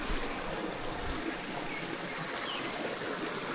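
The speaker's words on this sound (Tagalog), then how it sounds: "Tapos lagaslas po ng agos ng tubig." Mountain stream water flowing steadily through a forest near Antong Falls, a constant broadband rush heard close and alone with no talking.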